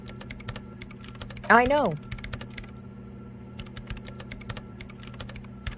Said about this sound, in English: Her hands typing hundreds of commands into the